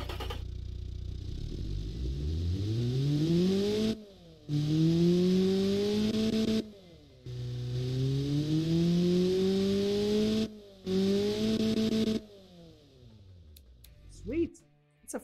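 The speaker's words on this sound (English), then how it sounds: "It's a four-cylinder engine." A replica four-cylinder engine with a baffled muffler fires up and revs in several rising and falling bursts, loud and close, with short pauses between pulls before it settles and cuts off.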